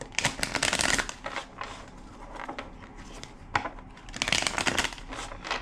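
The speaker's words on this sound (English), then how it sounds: "Two more shuffles." Crisp riffling bursts of a card deck being shuffled, two main flurries separated by quieter handling, close and fairly loud with no talking.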